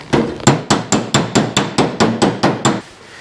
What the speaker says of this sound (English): I'm just gonna start hammering this out.